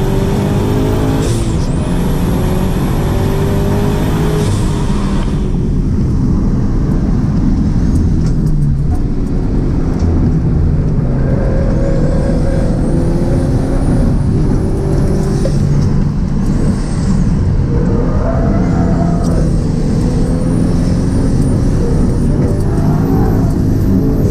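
A turbocharged Toyota GT86 show car on air suspension driven hard, its engine loud and close, revving through gears with rising and falling pitch, turbo whoosh and whine, and steady road roar throughout.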